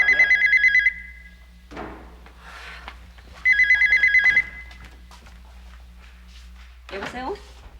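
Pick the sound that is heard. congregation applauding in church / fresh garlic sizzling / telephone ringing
telephone ringing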